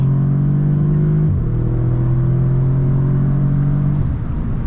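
A tuned Audi S3 with a Stage 1 tune pulls hard in second gear, its engine droning loud and close as the pitch climbs steadily, then a shift.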